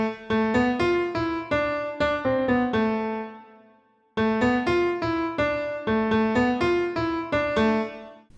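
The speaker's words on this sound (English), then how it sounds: "I have this MIDI clip with a melody that sounds like this." A synth melody of short, bright notes in a steady rhythm, pausing briefly midway before the phrase repeats, clear and up front with no talking.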